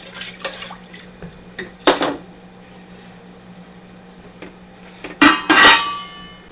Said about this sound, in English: Okay, that's on. I'll give it a stir.